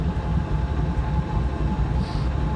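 Steady, loud low rumble from Uzbekistan branded passenger train wagons of the Uzbekistan express at Turkistan, heard continuously with no pauses or voices.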